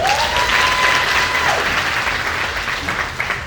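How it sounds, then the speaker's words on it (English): Audience applause for young people at a Limpopo youth event, a dense sustained clapping from a large crowd that fills the whole stretch, loud and steady with no talking. "Give yourselves a round of applause."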